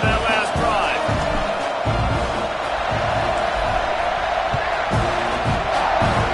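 Stadium crowd in an NCAA college football video game roaring steadily and loudly after a scoring drive, a dense continuous wash of cheering with a play-by-play commentator talking over it.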